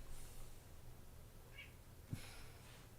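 Indoor house cats meow faintly nearby, with a short soft cry and a brief snort or breathy sound over a low steady room hum.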